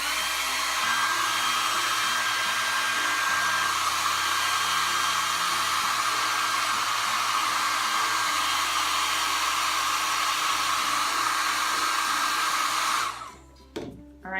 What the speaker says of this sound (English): I'm gonna use the hair dryer.